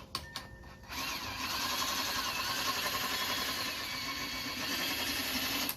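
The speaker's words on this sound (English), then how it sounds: "Got my drill." After a few brief clicks, a power drill spins up and runs continuously at a steady high whine for several seconds, close and unaccompanied, while rebuilding a Rieco Titan truck camper jack.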